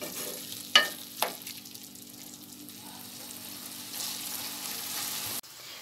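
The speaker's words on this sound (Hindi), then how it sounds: "अब हम इसको थोड़ी देर के लिए 5 मिनट के लिए इसको भूनेंगे कीमे को।" Dum-style minced meat (qeema) with tomatoes frying in a pan, giving a steady close sizzle broken early by two sharp clacks of a spoon against the pan and a swell of hissing near the end.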